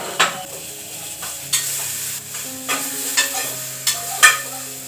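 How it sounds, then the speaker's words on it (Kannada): Garlic, onion and ginger frying in oil in a pan, a steady sizzle broken by about six sharp scrapes of a spoon stirring at an even pace. "ಸ್ವಲ್ಪ ಬೆಳ್ಳುಳ್ಳಿ ಸ್ವಲ್ಪ ಈರುಳ್ಳಿ ಹಾಗೆ ಸ್ವಲ್ಪ ಶುಂಠಿ ಇದನ್ನು ಉಟ್ಕೋತಾ ಇದ್ದೀನಿ ಸ್ವಲ್ಪ ಎಣ್ಣೆ ಹಾಕೊಂಡು ಉಟ್ಕೋಬೇಕಾಗುತ್ತೆ"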